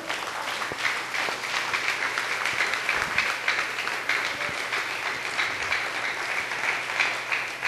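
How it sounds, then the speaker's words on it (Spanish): A church congregation applauds during a sermon, a steady, dense wash of many hands clapping at once that holds at an even level throughout, with no pauses or talk. "Denle un aplauso al Señor,"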